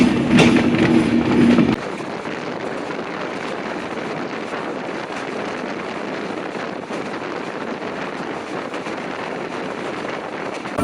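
The Sagardari Express pulls out of Kotchandpur railway station on a rain-soaked afternoon, a louder burst at first settling into a steady, even rumble and wind rush heard from on board.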